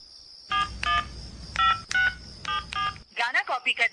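A phone number is keyed in on a telephone, a series of short electronic DTMF beeps in small bursts with pauses, followed by a ringback tone, clear and close with no talking.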